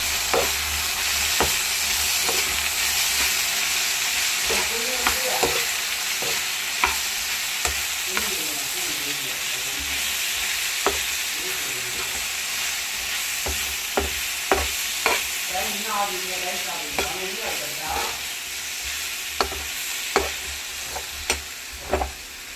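Bitter gourd and tomatoes fry in a pan with a steady close sizzle, while a spoon scrapes and stirs at irregular intervals, giving repeated clacks over the hiss.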